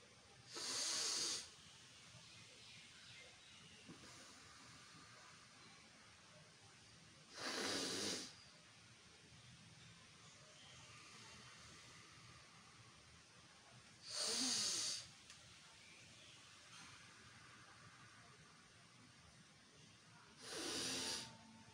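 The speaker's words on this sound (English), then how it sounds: "You have to do alternatively through your left and right nostrils. This is called alternate breathing." Alternate nostril breathing demonstrated in a quiet room: four slow, loud breaths through the nose, each lasting about a second with a hissing, airy quality, separated by long pauses of near silence.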